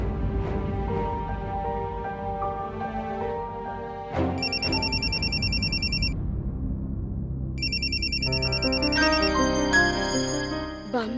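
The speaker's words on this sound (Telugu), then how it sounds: "బామ్మగారి ఫోన్." A telephone ringtone trills in two separate bursts, each about two seconds long, over steady background music in a home drama scene.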